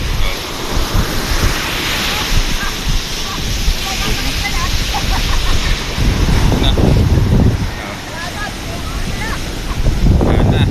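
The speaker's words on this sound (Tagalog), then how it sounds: "Lalaki ng alon." Big sea waves and strong wind at a boat in rough weather: loud, continuous surf wash and wind buffeting the microphone, with heavier surges of breaking water.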